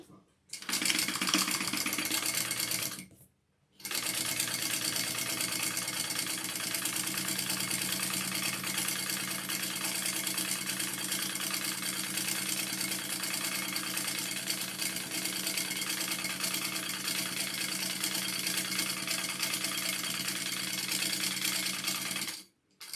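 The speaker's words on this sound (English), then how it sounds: "now I'm going to sew a line down the middle." Sewing machine stitching a line down the middle of a fabric sling pack, a steady close whirring motor hum running continuously, with one brief pause near the start.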